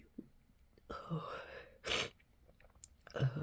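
A person sneezes once, a sharp close burst partway through, with soft breathy gasps and mouth sounds before and a quick breath after.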